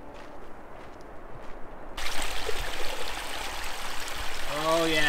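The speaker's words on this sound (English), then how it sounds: "that's some fresh mountain water right there" A fresh mountain stream in Torres del Paine, Patagonia, rushes in a steady broadband hiss, growing louder and closer after the first couple of seconds.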